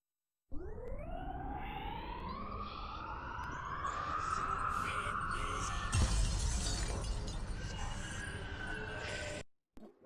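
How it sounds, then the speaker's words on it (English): Glass shatters in a video game, a loud, sustained crash with a rising swell of breaking debris that runs for several seconds before cutting off abruptly. "It's a broken glass."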